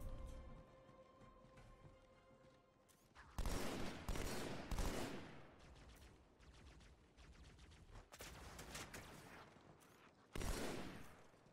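Gunfire in Halo 2 on Legendary difficulty: several loud bursts of rapid weapon fire come in clusters, with quieter stretches between them and a faint steady tone near the start.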